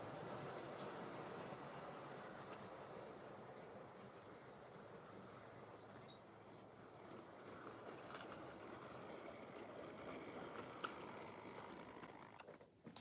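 Model GWR Hall Class locomotive pulling a goods train around a model railway layout, giving a steady, faint mechanical whir and rattle of wheels on track that continues throughout.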